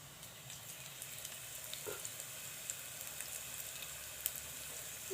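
Potato slices shallow-frying in a pan on medium flame make a soft, steady sizzle with faint crackles, quiet and continuous.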